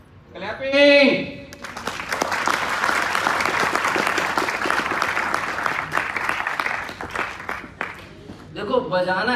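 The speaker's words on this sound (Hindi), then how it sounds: "क्लैपिंग।" An audience claps in a steady, dense wave of applause for several seconds. A short loud vocal burst comes first and a voice returns near the end.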